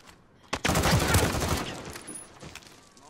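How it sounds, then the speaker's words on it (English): Gunfire erupts in a video game infected match as pistol shots crack in a dense burst, loud and close, then trail off into scattered fainter reports. "I'm gonna use my pistol."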